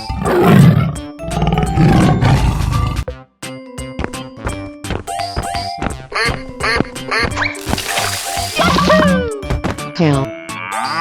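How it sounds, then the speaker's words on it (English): Cartoon tiger roars loudly at the start, followed by a run of bouncy, quacking cartoon animal sound effects. "Tiger."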